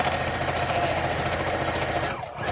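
A sewing machine runs steadily across the bottom edge of a fabric pillowcase, a close, continuous motor whir and rapid needle chatter that slows and briefly stops near the end.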